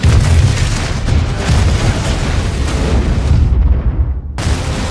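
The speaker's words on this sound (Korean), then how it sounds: "그렇게 비행기가 폭발하지만" Airplane blowing up in a Fast and Furious action film: a loud, sustained roaring explosion with heavy low rumble filling the scene, briefly cutting out near the end before the blast noise resumes.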